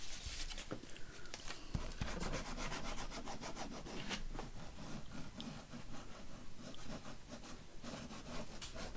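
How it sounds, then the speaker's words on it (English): A paper envelope flap gets pressed and rubbed down by hand to seal it for a handmade flower-themed envelope journal, heard as close, continuous dry rubbing and brushing strokes in quick rhythmic passes with no talking. "we're going to stick this flap down onto there"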